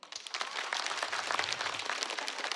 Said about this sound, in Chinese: 鼓鼓掌，我听一下